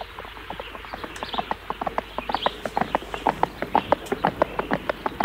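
Horses ridden toward a forest, hooves clip-clopping in a steady, quickening rhythm of sharp knocks that grow louder and closer, over a low background rumble.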